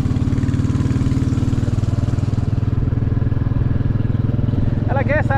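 A Royal Enfield Classic 350 motorcycle engine thumps at a steady, even idle close by, with a voice briefly heard over it near the end.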